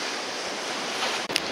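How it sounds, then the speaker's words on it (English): Steady rushing wind and churning surf at Rhyl harbour on a wet night blend into a continuous broadband roar, with a brief dip and a sharp splash-like burst near the end. "It's very wet and windy tonight."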